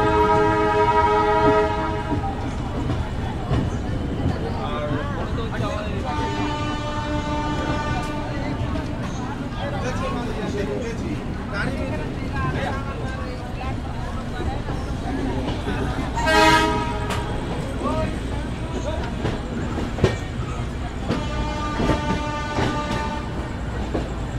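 A Jagannath Express passenger train pulls out of Shalimar station in Kolkata, its horn sounding in several sustained tones over the rolling rumble of the carriage, heard from inside with faint voices beneath.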